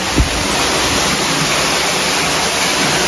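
Water at Rock City Gardens rushes continuously over rock in a dense, steady roar, loud and close throughout, with a brief low thump at the start.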